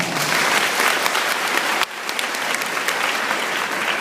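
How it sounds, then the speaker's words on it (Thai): An audience applauds for an academy at a bank manager's event, with dense, steady clapping from a crowd that dips briefly midway and then carries on at full strength. "ปรบมือให้กับอาคาเดมี่เขาหน่อย"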